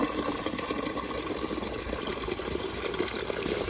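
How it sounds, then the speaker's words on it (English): Water gushes from a high-flow rain barrel spigot, a continuous loud rushing pour heard up close with no talk. "So you can see there, I'm full in an instant with that high-flow spigot,"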